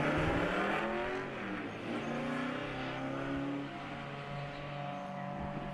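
A drift car spins around near the wall and tire barrier during a Spec-D Zestino Tires competition run in 2017, engine droning loud and steady with pitch sweeping up and down, tires hissing underneath, no voices.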